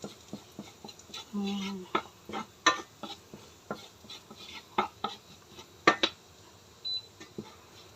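Fried rice being stir-fried in a pan, with repeated clanks and scrapes of a utensil against the metal. The strokes are close and fairly loud, and a short hum and a faint beep are heard in the background.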